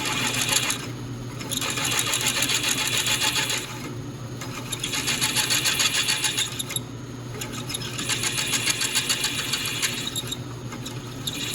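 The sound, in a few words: drilling out soft aluminum part for a larger thread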